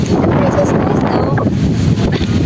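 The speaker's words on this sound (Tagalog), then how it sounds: "And we're here now in the beach. And it's so windy and cloudy at the same time." Strong wind on Paliton Beach, a small beach in Siquijor under cloudy skies, buffeting the microphone with a loud, continuous low rumble and gusts, while someone talks over it close by.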